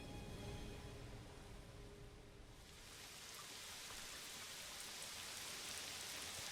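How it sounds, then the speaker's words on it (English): Steady, dense rainfall in the video game Silent Hill hissing evenly throughout, a continuous wash of falling rain with no voices. "They got rain."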